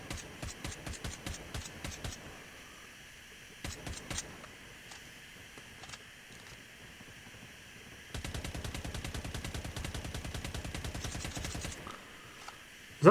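A PDW-57 submachine gun fires in a video game in rapid bursts, first several short rattling volleys, then a long sustained stream of close, loud shots after a quieter pause.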